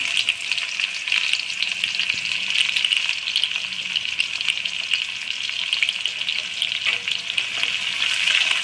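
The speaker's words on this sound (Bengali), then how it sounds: "তেলটা গরম হয়ে গেছে, সর্ষের তেল, পেঁয়াজ দিয়ে দিলাম" Onion frying in hot mustard oil, a loud, dense, continuous close sizzle with occasional stirring scrapes, no voices.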